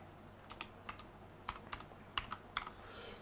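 Quick keystrokes click on a computer keyboard as Python code is typed, arriving in short irregular bursts of crisp, close taps over a quiet background.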